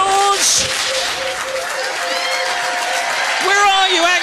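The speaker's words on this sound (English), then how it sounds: "Give them a huge round of applause" A trivia quiz audience at The Granta applauds, a steady wash of clapping and some cheering running through the whole moment beneath a host talking over it.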